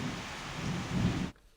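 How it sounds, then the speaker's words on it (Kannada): Heavy rain pours onto flooded city streets in Hubballi during a thunderstorm, a dense steady roar with a low swell that cuts off abruptly near the end. "ಈಗಾಗಲೇ ರಾಜ್ಯದ ಹಲವು ಕಡೆ ಮಳೆಯಾಗ್ತಾ ಇದ್ದು, ಸಿಡಿಲು ಸಹಿತ ಮಳೆಯಾಗ್ತಾ ಇದೆ."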